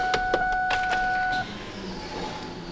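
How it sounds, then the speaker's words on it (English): An electric fuel pump primes in a Ford after a Holley swap, a steady tonal whirring hum with faint clicks that cuts off after about a second and a half, leaving quiet background noise. "There goes fuel pumps."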